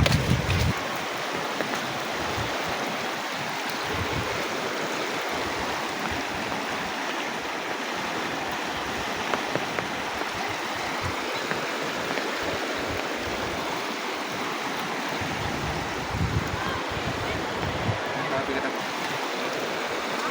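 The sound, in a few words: floodwater flowing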